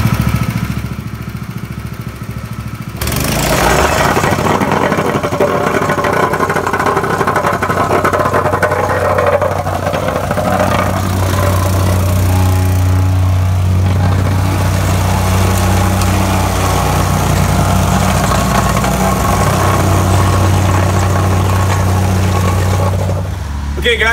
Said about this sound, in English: We're ready to plate compact the asphalt ramp.